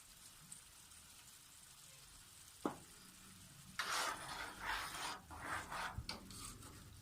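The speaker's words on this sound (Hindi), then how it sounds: "जो बाकी का ऑयल था वो अब हम इसमें डालने लगे हैं।" Leftover oil is poured into chicken white korma frying in a pan. Quiet background hiss, a brief clink, then a loud, crackling sizzle bursts up and keeps surging for several seconds.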